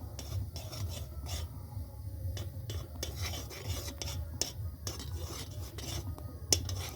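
A spoon scraping and stirring through homemade ghee in a pan, repeated rasping strokes at an uneven rhythm, close and clear with no voices.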